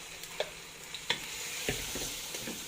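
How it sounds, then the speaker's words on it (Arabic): Two large onions frying in hot oil give a steady close sizzle, broken by a few sharp clicks from stirring. "حطينا الزيت يسخن وهنحط البصلة، حوالي كده بصلتين كبار"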